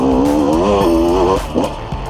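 A KTM motorcycle close by revs its engine hard, a loud rising harmonic whine for over a second, then drops off and sputters as it pulls away.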